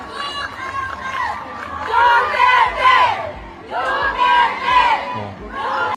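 A large rally crowd in London shouting and cheering in rising waves, loud chant-like bursts swelling and fading through the clip, heard as a played-back recording with voices blended in.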